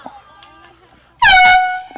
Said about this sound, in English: Noise warning, air horn.